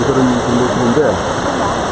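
A mountain valley stream in the Daeunsan valley, Ulju County, Ulsan, runs high after a day of rain and gives a steady, full rush of water close by. Someone talks over it.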